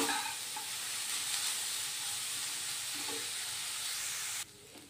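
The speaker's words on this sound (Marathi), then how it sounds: "आपल्याला जे गाजर आहे ते परतून घेतावेळेस याला मध्ये मध्ये आपल्याला हलवत राहायचं आहे" Grated carrot for gajar halva sautés in a pan, giving a constant soft sizzle and hiss with faint stirring scrapes underneath, quiet and close, cutting off abruptly near the end.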